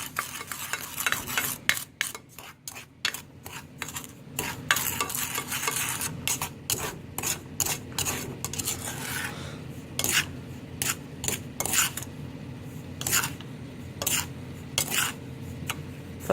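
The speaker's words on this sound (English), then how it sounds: "I'm gonna go ahead and keep on stirring on high heat until it gets caramelized" Noodles and sauce are stirred in a pan over high heat, giving repeated scraping strokes with a spatula against the metal over a continuous sizzle, close and moderately loud.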